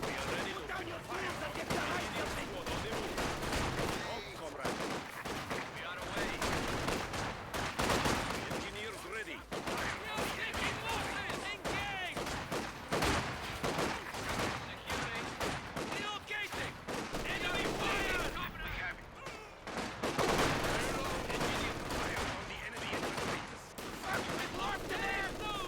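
Constant rattling gunfire and bursts from a video game battle, dense overlapping shots and machine-gun chatter running throughout, fairly close and busy.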